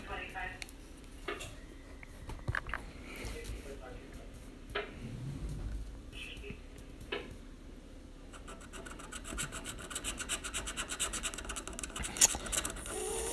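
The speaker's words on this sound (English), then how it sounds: "let's start scratching." A coin scratching the coating off a California instant lottery scratcher ticket, steady soft rasping strokes that grow denser toward the end, quiet and close over faint room noise.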